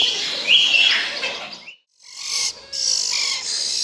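A brood of four oriental magpie-robin nestlings taken from a nest in a tamarind tree chirp and beg in shrill, continuous overlapping calls up close, with a brief pause midway.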